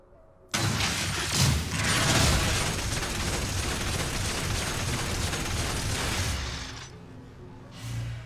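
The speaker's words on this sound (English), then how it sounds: "So it's a machine gun." Urgot's machine gun ability fires in League of Legends, a dense, sustained burst of rapid mechanical gunfire that starts abruptly, runs for several seconds and cuts off, followed by a short final burst.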